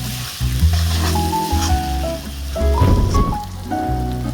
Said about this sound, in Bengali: এখন এটাকে অনবরত নাড়াচাড়া করতে হবে, যাতে করে আবার পুরোপুরি লেগে না যায় এবং না পুড়ে না যায় পেঁয়াজগুলো